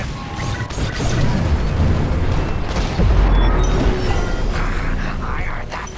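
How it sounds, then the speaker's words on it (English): A reactor core explodes in the Star Wars Squadrons video game, a sustained loud rumbling blast with deep booms, crackling debris and mechanical whooshes lasting several seconds, with faint voices underneath. "You won't have much time to get out once the core explodes"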